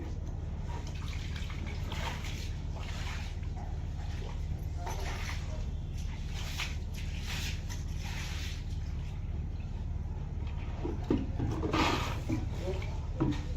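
Someone bathes outdoors at home on a windy day, splashing and pouring water in a constant rushing wash with occasional louder splashes, while a voice talks over it.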